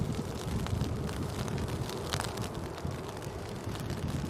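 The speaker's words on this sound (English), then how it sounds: "Since when is the wind coming into us?" Steady wind buffets the microphone outdoors at Manchester Airport, a constant rough roar filling the whole clip with no clear breaks or other distinct sounds.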